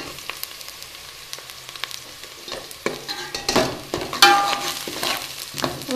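Onions frying in a pan with garlic ginger paste for a Hindi/Urdu curry: steady sizzling with scraping stir strokes that grow louder and busier partway through.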